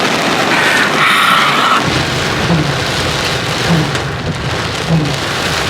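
Heavy rain pours in a loud, dense hiss close by, with a brief rumble and a few low thuds beneath the downpour.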